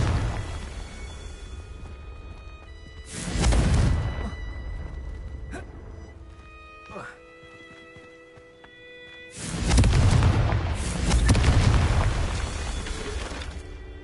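Two loud fiery blasts from the Confringo spell in Hogwarts Legacy, each a booming whooshing burst a few seconds long, separated by quieter game ambience with faint pops and chimes.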